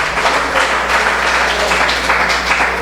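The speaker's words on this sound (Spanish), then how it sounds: "Dele un aplauso al Rey de Reyes y Señor de Señores." A church congregation gives a loud, sustained round of applause, many hands clapping together in a thick, even wash that lasts throughout.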